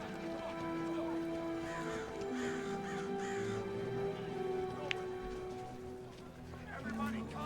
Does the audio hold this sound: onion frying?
no